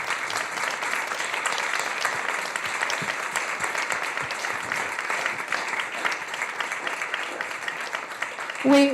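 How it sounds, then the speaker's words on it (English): Steady applause from a conference audience at a women's leadership forum fills the whole stretch, dense and sustained at even loudness, with a brief voice surfacing right at the end. "Can I ask you for a round of applause?"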